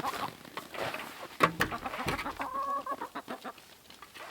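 Chickens cluck softly nearby in a series of short, irregular calls, with a few louder squawks mixed in, on a farm in sub-zero winter cold.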